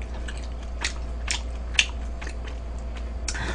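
Crisp crunching bites into a fried cheese ball, a few sharp crackles close to the ear with quiet pauses between.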